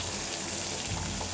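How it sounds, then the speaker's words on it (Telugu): Water streams into a mixer jar of spice masala in a continuous, fairly loud gush with no break, and no voices over it. "మిక్సీ జార్లో వాటర్ వేసుకొని"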